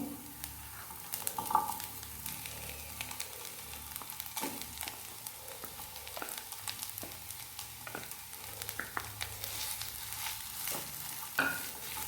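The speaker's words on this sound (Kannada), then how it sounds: "ಈಗ ಇದಕ್ಕೆ ಆಲೂಗಡ್ಡೆಯನ್ನು ಬೇಯಿಸಿ ನಾನು ಸ್ಮ್ಯಾಶ್ ಮಾಡಿ ಇಟ್ಕೊಂಡಿದ್ದೇನೆ, ಅದನ್ನು ಹಾಕ್ಕೊಳ್ತಾ ಇದ್ದೇನೆ" Boiled mashed potatoes for samosa filling being added to a pan and stirred, with soft scraping and light sizzling, occasional utensil taps against the pan, faint and close with no talk.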